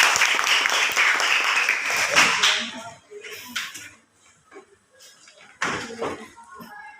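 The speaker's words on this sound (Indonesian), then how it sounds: "Oke, tepuk tangan semuanya." A classroom of students claps hands together in a loud, busy burst for about three seconds, then it fades into scattered quieter sounds and faint movement before a short second burst of noise.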